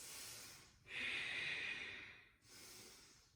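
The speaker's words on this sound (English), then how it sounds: "Deep Ujjayi breaths." Deep Ujjayi yoga breaths, close and audible: a long hissing breath through the throat between softer breaths, rising and falling in a slow steady rhythm with no talk.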